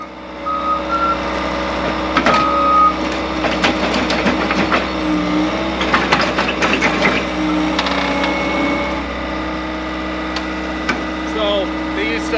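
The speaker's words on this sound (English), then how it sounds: "Looking at that skid steer operate compared to the 3-point post hole digger that we're all probably used to is really just almost comical" Skid steer working a hydraulic auger to dig post holes for a pole barn, its engine droning steadily with reversing beeps and clanking machinery throughout, fairly loud and close, with faint voices mixed in.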